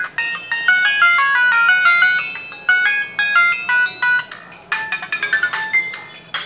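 A bright electronic ringtone from an itel Magic X 4G keypad phone plays a quick repeating melody of beeping tones, loud and close, with no voices.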